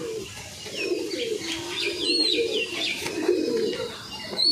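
Pigeons coo steadily in a loft, several birds overlapping in low, rolling murmurs with a few faint chirps above, close by and continuous, no voices.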